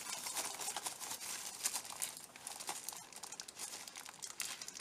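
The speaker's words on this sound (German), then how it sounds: "Muss man kaputt machen, die Tüte." Plastic bag packaging for a Lekato AMT-600 metronom-tuner being torn open by hand, a steady close crinkling and tearing rustle that runs throughout with no talk.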